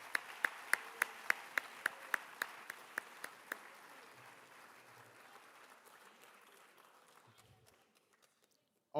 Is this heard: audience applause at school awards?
yes